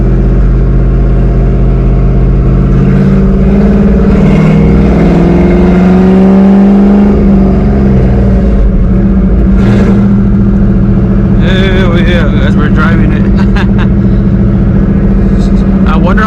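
A supercharged Mustang GT with a Paxton Novi blower, running lean on a pothole-filled road, drives with a steady engine drone and a rising rev sweep partway through, while someone talks over it.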